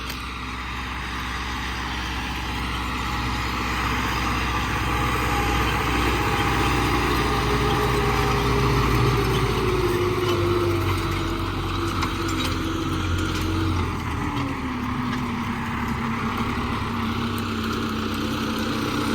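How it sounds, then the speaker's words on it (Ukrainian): An MTZ 892.2 tractor pulling a KPS 4.2 cultivator across a field being cultivated for sunflower sowing, its engine a steady, loud drone with a slowly shifting pitch, heard nearby and alone for the whole stretch. "Культивіруємо новим трактором."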